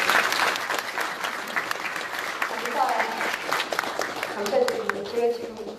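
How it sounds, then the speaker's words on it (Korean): An audience at a city vision proclamation ceremony in Seongnam claps together, a loud, sustained burst of applause with crowd voices mixed in and fading slightly near the end. "한번 다 같이 박수로 저희 손을 한번 잡아주시겠습니까?"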